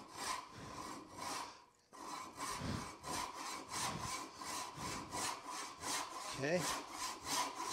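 A hand saw cuts a wooden tenon in close, steady back-and-forth strokes with a regular rasping rhythm, pausing once briefly, while a voice speaks a single word.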